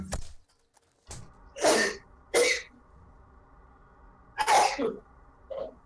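Several sharp sneezes in a quiet room, one after another with brief pauses, plus a smaller sniffly burst at the end.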